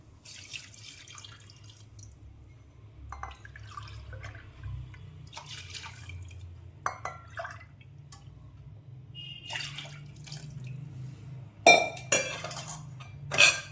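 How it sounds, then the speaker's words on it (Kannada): Buttermilk is poured into a pot over a low gas flame for North Karnataka jolada nucchu. A soft, steady liquid pour is broken by clinks of a metal bowl and utensil, louder near the end. "ಸೊ 3 ಬಟ್ಲದಷ್ಟು ಮಜ್ಜಿಗೆ ಹಾಕ್ಕೊತೀನಿ"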